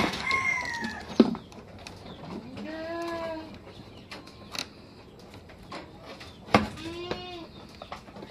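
Goats, mother does and kids, bleat repeatedly nearby, wavering calls overlapping one another, with faint clucking of fowl and scattered knocks in the background.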